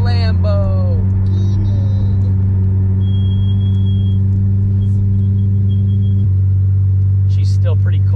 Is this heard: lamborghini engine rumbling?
yes